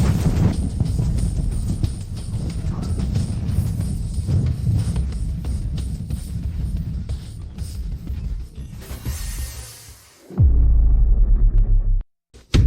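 A lightning strike in a dramatic fantasy scene gives a loud, low rolling rumble lasting about ten seconds, then a brief heavy thundering boom near the end, with no talking.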